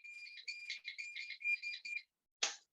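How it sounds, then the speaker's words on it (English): A phone alarm rings out in a bright, chirpy electronic melody that repeats for about two seconds, then cuts off, followed by a brief rustle. "sorry, it's my alarm."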